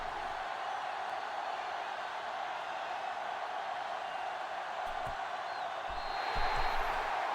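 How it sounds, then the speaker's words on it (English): A stadium crowd cheers at a San Francisco game in an American football video game, a steady, distant roar that swells louder toward the end. "The San Francisco crowd cheering"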